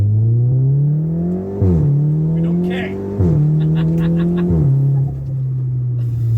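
Volkswagen Golf GTD diesel hatchback accelerating hard with traction control off, engine note climbing steadily through three quick gear changes, loud and close from inside the cabin, with a brief spoken remark over it.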